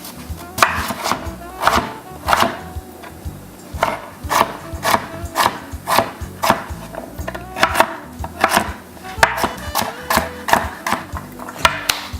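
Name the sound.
chopping yam on a wooden board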